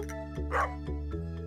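A small dog barks in the video game Stardew Valley, giving a few short, quick yips over a steady bed of game music.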